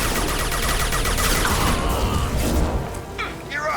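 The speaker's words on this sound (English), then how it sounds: "So I'm going to switch back to the submachine gun." Submachine gun fire in the sci-fi shooter Mass Effect 2, a dense rapid burst of shots over a rumbling game soundscape, with scattered impacts and effects trailing off near the end.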